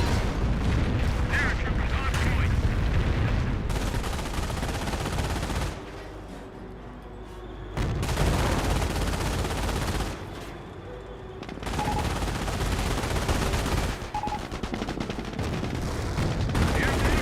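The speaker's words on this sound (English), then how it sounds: "we've got a Calliope rocket barrage over here as well" A Calliope rocket barrage and gunfire in Company of Heroes 1 form a dense, sustained roar of shots and blasts that rises and falls in long loud stretches with brief quieter gaps.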